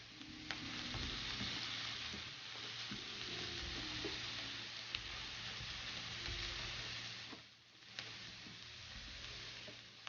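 Mixed vegetables for an achari dish sizzle steadily in a hot pan while a spoon stirs them, with scattered scrapes and clinks over the constant frying hiss and a brief dip near the end.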